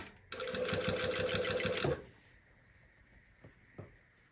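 A sewing machine runs fast, stitching bias tape close to a folded edge along a polo neckline. The steady whirring burst lasts about a second and a half, then stops, leaving faint handling clicks.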